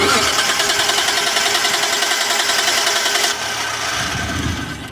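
A 1993 Mitsubishi 3000GT SL engine cranks without starting, a loud, even, rhythmic starter churn that runs for about three seconds, then drops in level and continues briefly before trailing off.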